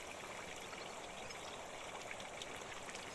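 A sparkling water spring flows with a steady, soft trickling rush, an even wash of water sound with no voices.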